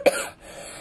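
A single short, sharp cough up close, trailing off into quiet room noise.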